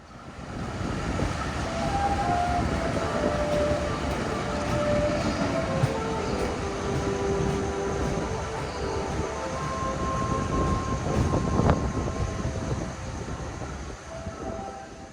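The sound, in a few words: Tawang Jaya passenger train running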